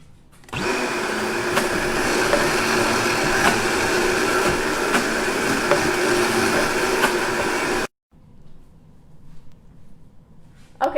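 A kitchen blender whirs loud and steady for about seven seconds, blending pesto of basil, garlic and olive oil, then cuts off abruptly, leaving quiet room sound and a faint noise at the end.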